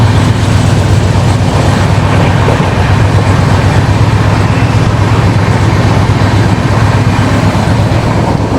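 Rajdhani Express from Delhi to Secunderabad running at speed while overtaking another train, a steady loud rumble of wheels and carriage noise with constant low roar throughout.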